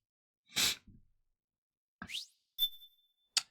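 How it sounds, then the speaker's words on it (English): A single sharp sneeze with a breathy burst, followed by a short sniff and a few scattered small sounds separated by silence, close and fairly quiet. "nothing like starting off on a good foot with a sneeze at the beginning of the run"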